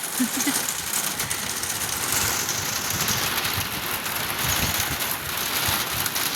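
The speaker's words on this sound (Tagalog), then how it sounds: "Dito na ang ulan. Ayan na guys. Andito na ang ulan." Steady rain falls as a constant broadband patter and hiss, with faint low rumbling underneath.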